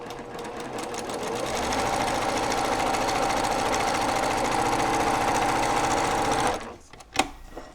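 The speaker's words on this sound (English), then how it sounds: "Scoot it up, snug it up under the needle, and stitch." Sewing machine stitching a half-square triangle quilt block, a steady close whirring run of rapid needle strokes lasting several seconds, then stopping with a couple of faint clicks and handling noises.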